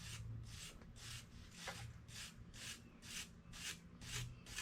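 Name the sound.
wire brush scrubbing silicone off engine part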